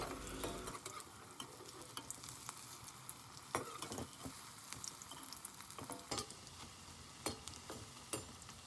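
Lentil fritters (bora) fry in hot oil, and a spoon turns them gently so they stay whole. The sizzle is steady and close, with repeated sharp clicks and taps from the stirring throughout.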